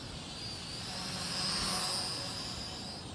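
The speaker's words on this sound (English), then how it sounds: "This is how I like to fly my little toy grade drones." A small toy-grade quadcopter drone flies nearby, its steady high-pitched buzzing whine swelling slightly louder around the middle as it passes closer, then easing off again.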